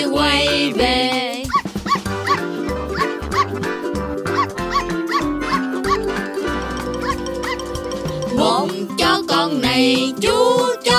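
A singing voice imitates a small puppy's woofing, repeated four times in a children's nursery song, set over busy music with a bouncing rhythm throughout.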